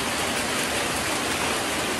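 Heavy rain pours down during a flood, a dense, even hiss of downpour that stays loud and unbroken throughout, with no speech.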